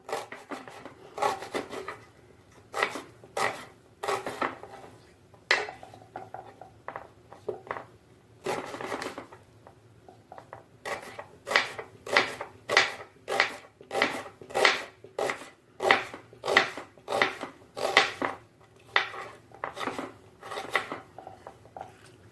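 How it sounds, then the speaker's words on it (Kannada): A kitchen knife slices an onion for veg Hakka noodles, a run of sharp, rhythmic chopping strikes on a cutting board, close and clear, speeding into a steady quick beat in the second half. "ಈಗ ಈರುಳ್ಳಿ ಕಟ್ ಮಾಡ್ಕೊತಾ ಇದ್ದೀನಿ"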